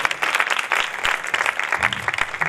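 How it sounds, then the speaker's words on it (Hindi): A church congregation breaking into loud, dense applause, many hands clapping at once in a sustained burst close by, with faint voices underneath. "खुदा के जलाल के लिए जोरदार तालियां बजाएं।"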